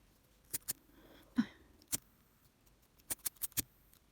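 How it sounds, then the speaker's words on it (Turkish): Scissors snip macrame bracelet cord in a quiet room, giving several sharp, isolated clicks, a pair early on and a quick cluster near the end. "Yine çakmakla makasla kesiyoruz arkadaşlar çakmakla yakacağız."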